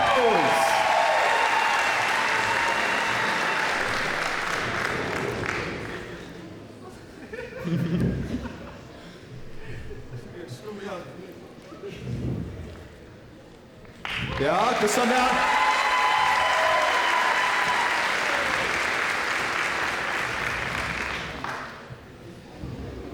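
An audience applauds at a ball host and hostess contest, two long bursts of loud clapping with some laughter and chuckling, and a speaking voice and quieter crowd sounds in the gap between them.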